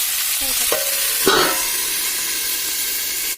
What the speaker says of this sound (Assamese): আকৌ এবাৰ লৰাই দিছোঁ, দুবাৰকৈ এনেকৈ লৰাই দিছোঁ।